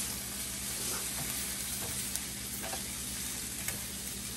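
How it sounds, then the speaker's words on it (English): Rice toasting in a hot pan for a quick pantry meal gives a steady, close sizzle with faint scraping and stirring sounds, running evenly throughout with no talking. "you want to really have a chance to toast this rice"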